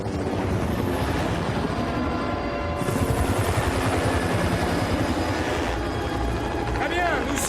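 Helicopter rotor thumping steadily and loudly throughout, with a dense whine on top, as people speak over it in a military setting.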